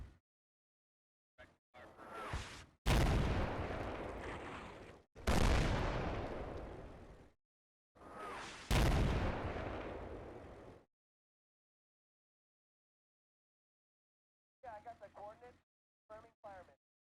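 Precision artillery rounds slam into a BMP armored vehicle in the Combat Mission: Black Sea wargame, heard as several loud, close booming blasts with long rumbling decays, followed after a pause by a few fainter short bursts.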